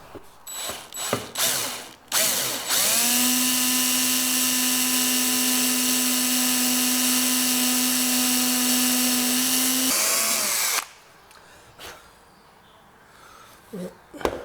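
A power drill whines at a steady high pitch for several seconds drilling metal, close and loud, bracketed by short clicks and mechanical handling noises.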